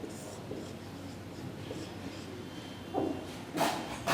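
A pen scratches out the chemical formula for calcium phosphate in faint, quick strokes over a steady background hiss, with a couple of louder scraping marks near the end.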